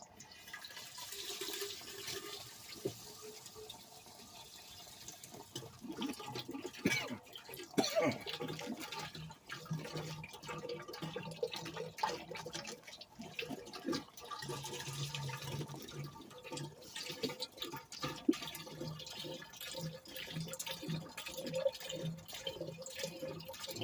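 Acid poured into a container while melting a batch of gold-plated fingers in a plastic cage, a long, faint trickling and dripping liquid stream with irregular splashes, quiet and close, with no clear voices.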